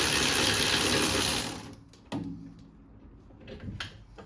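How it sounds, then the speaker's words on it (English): A large ratchet loosening the brake caliper bolts on a Mercedes-Benz GLC, heard as a dense, steady clicking run for about a second and a half, then a few separate, sharper mechanical clunks and rattles close by. "they're loosened off with a big ratchet"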